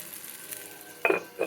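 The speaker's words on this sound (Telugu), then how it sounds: "మూత పెట్టేద్దాం." A cooking pot lid set down with two short metallic clinks near the end, close and moderately loud over faint kitchen background.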